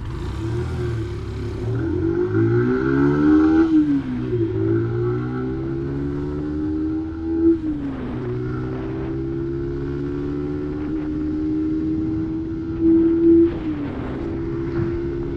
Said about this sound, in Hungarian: Hát itt láthattatok most egy teljes gyorsulást.